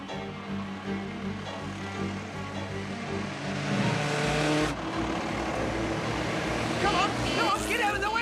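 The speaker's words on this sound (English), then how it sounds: "This is a patrol car, not a chase car." A police patrol car pulls away in pursuit, its engine droning and rising steadily throughout, with voices over it.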